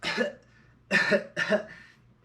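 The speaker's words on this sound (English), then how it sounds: "you're gonna be coughing up water like this." Three harsh, wet coughs close by from coughing up swallowed water, one then a pause, then two more in quick succession.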